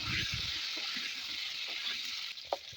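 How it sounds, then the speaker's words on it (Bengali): Cauliflower frying in oil in a pan gives a steady hiss and sizzle throughout, close and moderately loud, with a few faint clinks and a speaking voice underneath. "ওই তেলের মধ্যে ফুলকপিটাও ভালোভাবে ভেজে নেব"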